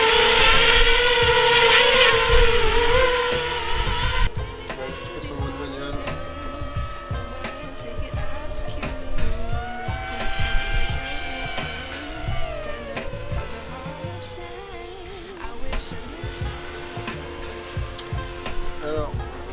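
A DJI FPV drone fitted with oversized propellers whines loudly at close range, its motor pitch rising and falling as it throttles up and settles, with a noisy burst at the start and some background sounds underneath.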